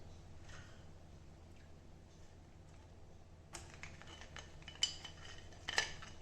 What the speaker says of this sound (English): And now I'm going to add the crabs in it.